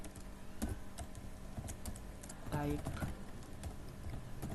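Python code is typed on a computer keyboard in a steady run of light clicking keystrokes, faint and close, with a low voice murmuring briefly in the middle.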